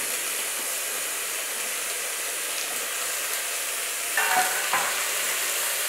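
Potatoes and cauliflower fry in a pan for a mixed vegetable dish, giving a steady bright sizzle throughout, with a couple of louder scraping stirs near the end.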